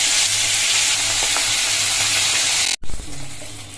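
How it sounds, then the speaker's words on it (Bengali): A hilsa fish head fries in hot oil in a wok, giving a loud, steady sizzle throughout that cuts out abruptly near the end before a quieter hiss resumes. "তো এই দেখো ইলিশ মাছের মাথা কিন্তু ভাজা কমপ্লিট"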